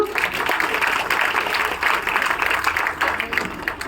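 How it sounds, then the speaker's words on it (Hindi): Loud applause from an audience at an award ceremony during annual day celebrations, dense continuous clapping that holds steady for a few seconds with faint voices underneath. "जोरदार तालियां"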